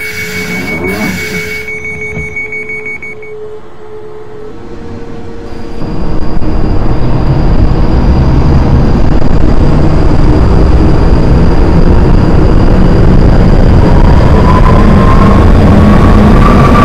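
A London Underground train between Oval and Moorgate accelerates and runs loudly through a tunnel, a roaring rumble with rising whine and wheel squeal after a brief quieter start.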